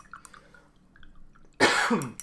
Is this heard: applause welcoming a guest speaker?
no